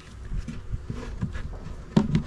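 Honey bees buzz close by at a hive in short, uneven bursts, a soft droning hum with a few louder brushes and taps toward the end.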